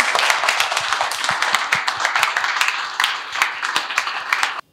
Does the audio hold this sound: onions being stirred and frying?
no